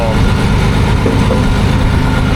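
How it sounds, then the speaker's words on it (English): A tractor engine runs at low speed, around 1,000 RPM, holding back a load: a steady, loud, low rumbling drone that continues without a break throughout. "just letting the engine and the tractor hold us back"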